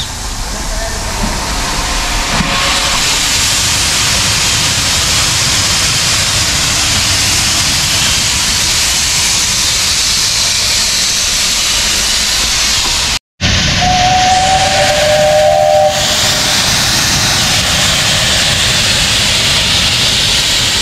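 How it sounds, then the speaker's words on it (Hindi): An old Indian steam locomotive is started and hisses loudly and steadily, with a brief dropout partway through, followed by a short steam whistle blast near the end. "इंजन को चालू किया जा रहा है, तो धुआं धुआं हो गया भाई"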